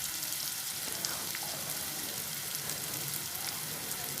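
Ginger garlic paste frying in hot oil while paneer bhurji is cooked, a steady soft sizzle and crackle with faint occasional pops, close and continuous with no talk.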